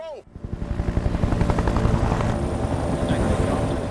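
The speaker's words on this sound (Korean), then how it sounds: "그때 마라킨을 잡기 위해 DEA에 온 테르프와 루미오가 헬리콥터를 타고 나타나는데" A helicopter in a film flies close, its rotor chopping in a fast, steady rhythm that swells in loudness and holds near.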